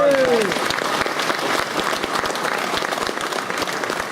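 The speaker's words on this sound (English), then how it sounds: "Right, big round of applause please." Audience applause at the Newark Classic Bike Show, a crowd clapping steadily and fairly loudly after an interview, with a brief voice at the very start.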